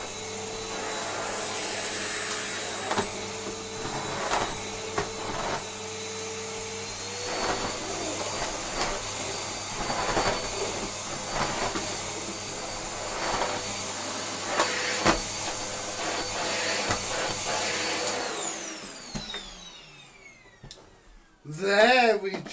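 A Miele C3 Powerline vacuum cleaner runs on a rug with a loud, steady motor whine and high-pitched tone while the floor head skips about. The motor winds down near the end, and a voice speaks over it.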